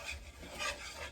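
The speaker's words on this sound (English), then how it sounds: "Whisk that around, get it combined." Flour being whisked into loaded baked potato soup in a pot, a soft continuous scraping and swishing close up, with no talking.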